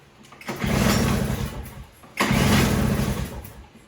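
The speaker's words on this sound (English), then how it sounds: "I'll do this a few times until it runs completely dry and I'm unable to start it." A Toro single-stage snowblower engine is pulled to start while its fuel runs dry, giving two separate bursts of close, loud engine running, each catching for about a second and a half before cutting out.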